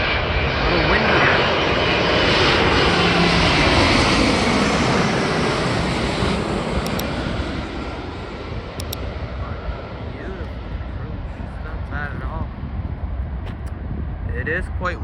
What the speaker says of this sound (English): The pilot buttered it. That was a beautiful landing.